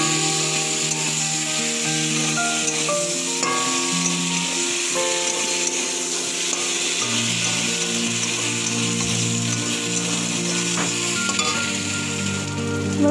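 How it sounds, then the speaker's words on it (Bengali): Prawns frying in a well-cooked Bengali spice paste for mocha chingri ghonto. A dense, continuous sizzle runs throughout, with stirring and scraping in the pan, close up, and steady tonal sounds underneath, with no talking. "মশলাটা কষে গেছে, চিংড়ি মাছগুলো দিয়ে দেবো।"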